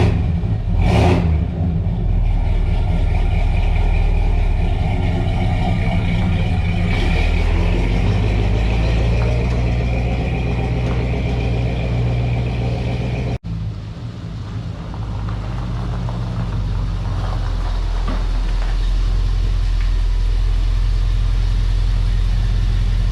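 A 1975 Dodge W200 Power Wagon 4x4 with a factory 440 big block idles steadily up close, a deep continuous rumble with a brief throttle blip near the start and a short dip midway.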